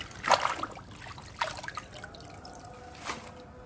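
Gongura leaves being rinsed and lifted out of a bowl of water, three separate splashy bursts of dripping and trickling water with quiet gaps between them.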